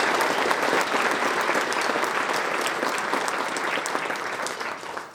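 Luncheon crowd at a Cheyenne chamber awards event giving a sustained round of applause for sponsors, dense clapping that holds steady and then fades away at the end.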